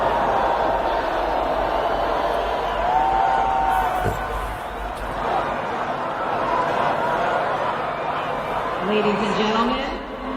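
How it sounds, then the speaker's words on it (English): A large outdoor crowd at the 2017 presidential inauguration of Donald Trump sends up a broad, sustained roar of cheering and scattered whoops, distant and continuous, with voices talking over it. "you can hear the crowd getting a lot bigger and a lot more energized"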